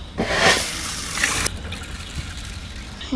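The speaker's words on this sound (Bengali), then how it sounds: "এখন ডাল সেদ্ধর লাগে পানি দিয়ে দেবো" Water splashes and gushes into a pot of washed masoor lentils for boiling, a close pour lasting just over a second before it stops and leaves a faint background.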